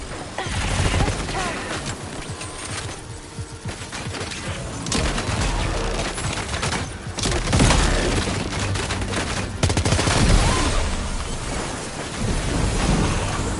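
Heavy gunfire in the video game Death Stranding 2, dense continuous bursts and rumbling blasts filling the whole stretch, loud and chaotic without pause.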